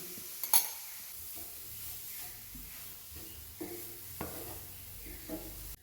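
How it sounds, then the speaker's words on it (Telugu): Grated carrot fries in ghee in a pan with a quiet sizzle, while a spoon stirs and scrapes against the pan in a few sharp, sporadic knocks. "నెయ్యి వేసుకొని ఫ్రై చేసుకుంటున్నాను"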